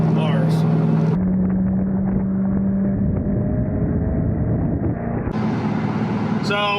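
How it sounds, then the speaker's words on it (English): A car cruises along a highway in Nebraska, its steady engine drone and road and tire roar filling the cabin with a continuous loud rumble, while people talk inside. "So we're just driving along here,"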